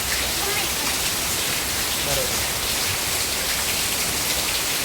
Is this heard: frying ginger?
no